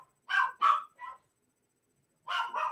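Dogs bark indoors, three quick close barks followed by a short pause and then two more, loud against an otherwise silent room.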